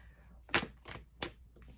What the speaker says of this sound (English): So if I keep getting the same cards and you see me shuffling